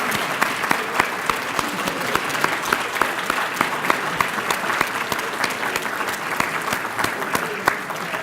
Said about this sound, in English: join me in another round of applause for the Hampton City Schools Jazz Ensemble